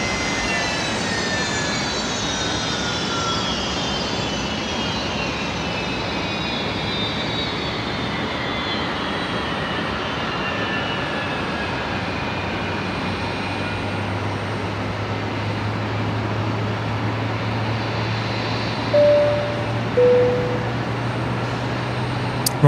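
Rolls-Royce jet engines of an aircraft at Brisbane Airport at night, singing with a high descending whine over a steady roar, a low drone building partway through, and a couple of brief chirps near the end.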